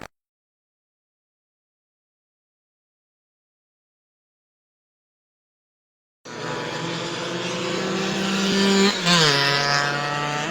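Super scooters race at Lydden Hill circuit, heard after about six seconds of silence as a loud, buzzing engine note that climbs, dips sharply at a gear change and rises again, close and steady.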